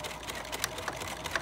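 A serger sews a buttonhole sample on fabric, a quiet steady mechanical whir with faint rhythmic stitching ticks close by.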